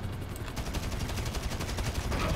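Rapid machine gun fire in GTA Online, a dense, loud burst of sharply repeating shots running steadily through the whole moment with no pauses.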